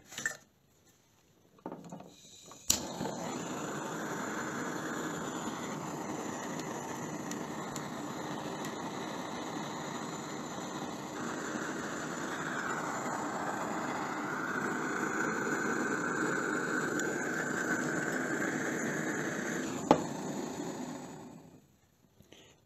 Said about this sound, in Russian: Испытывать буду при помощи газовой горелки.